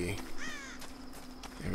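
A crow caws in the action game Tomb Raider, one harsh rasping call standing out briefly above a low steady ambient drone.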